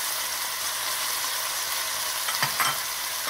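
Beef sears over high heat in a hot pot for a beef stew with carrots and potatoes, sending up a loud, steady hiss with a few scraping stirs near the end.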